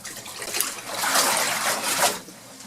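Water sloshes and trickles steadily as a metallic lamé fencing jacket is hand-washed, a close, continuous wet swishing that swells in the middle before easing off.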